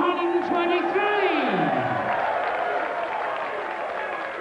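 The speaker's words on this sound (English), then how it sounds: "Applause for George on a finish" Applause and crowd noise rise in a televised darts hall at the 1993 World Championship quarter final after Bobby George's finish, with a commentator's voice and a tonal sweep over the clapping.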